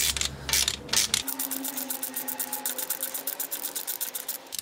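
A hand ratchet loosens brake caliper bolts on a Ford Taurus, giving a rapid, close, steady series of clicking pawl ticks after an initial clunk.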